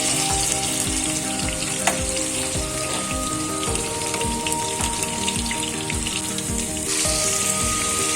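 Cut potato pieces fry in hot oil in a pan for a katla fish and spinach curry, giving a steady, close, crackling sizzle with a few stirring knocks.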